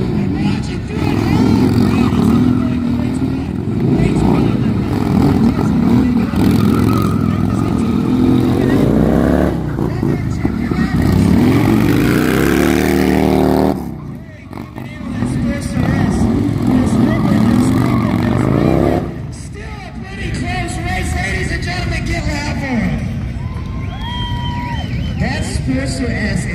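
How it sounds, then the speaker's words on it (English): Harley-Davidson Sportster S and FXR motorcycles rev loudly at a drag race, with a sustained engine roar that rises and falls, a brief drop partway through, and crowd noise and voices mixed in. "Sportster S is something else. Definitely doesn't sound like a regular Hardy, but it's an absolute monster."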